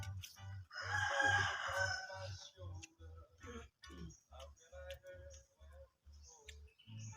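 A rooster crows loudly and at length, followed by scattered clucks from native chickens in the Philippine countryside, over a steady low rhythmic hum, with faint chatter in the background.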